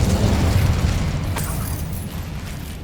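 Incendio fire spell cast in Hogwarts Legacy: a loud, sustained whooshing burst of flame with a deep rumbling low end that holds for a few seconds and slowly fades, no talking over it.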